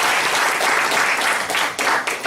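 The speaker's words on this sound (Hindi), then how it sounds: "जरा सर के लिए ताली बजाओ।" Brief burst of audience clapping for a speaker at a health talk, dense and close, swelling and easing over a couple of seconds with no talk over it.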